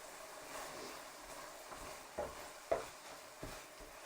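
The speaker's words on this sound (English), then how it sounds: "The beef is almost done, and then we will stir those veggies right in." Vegetables stirred into frying beef for a stir fry, heard as a soft, steady sizzle with a few distinct scraping clinks of a utensil against the pan, fairly quiet throughout.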